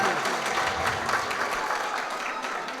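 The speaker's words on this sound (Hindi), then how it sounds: "जोरदार तालियां" Steady audience clapping at a mushaira poetry gathering in a function hall, continuous and moderately distant, tapering slightly toward the end.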